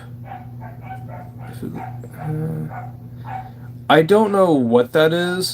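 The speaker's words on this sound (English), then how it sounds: "Sorry about the dogs." Dogs bark a few times in the background at a home while a person talks, the barks sharp and fairly loud near the end.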